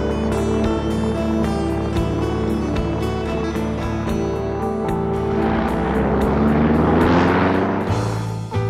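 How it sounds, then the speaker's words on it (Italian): A 1920 propeller airplane, on the Rome–Tokyo raid, takes off with a loud, steady engine drone and harmonic hum that swells and roars more strongly toward the end, with no talking. "Finalmente arriva il momento del decollo verso il Giappone."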